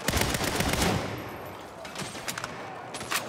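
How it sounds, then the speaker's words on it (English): Burst of video game gunfire in Saints Row, dense overlapping shots loudest in the opening second, then scattered sharper cracks trailing off over a steady game ambience. "I mean shoot my way out."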